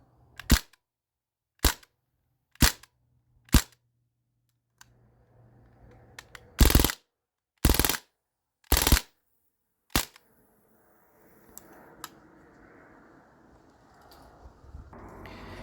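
Crosman A4-P air rifle, CO2-powered via a bulk fill adapter, fired repeatedly: sharp isolated cracks, several quieter at first then four louder ones, spaced about a second apart, close by in a quiet space.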